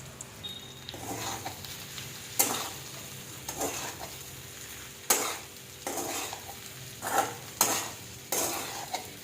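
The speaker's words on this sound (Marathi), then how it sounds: "आता ह्या मसाल्यामध्ये छानपैकी आपण आता परतून घेऊया." Spice masala for kothimbir vadi being sautéed in a pan, a soft sizzle under repeated scraping stirs of a spoon against the pan, coming in irregular bursts close by.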